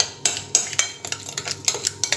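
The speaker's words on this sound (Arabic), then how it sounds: "اخد شويه ملح بقى منهم واقلب المكونات دي كويس كده بعضها" Potato and chicken tray ingredients tossed with salt in a metal tray, producing repeated clinking scrapes of a utensil against metal in an uneven close rhythm, with no talking.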